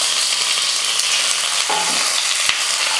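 Curry leaves dropped into hot tempering oil with already-popped mustard seeds and lentils, for a peanut and coconut chutney: steady, close, bright sizzling and crackling throughout, with a brief stir or clink near the end and no voices.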